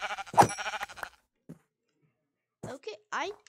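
Minecraft video game sheep giving a loud bleat at the start, then a short series of shorter bleats and clicky game sounds separated by silence.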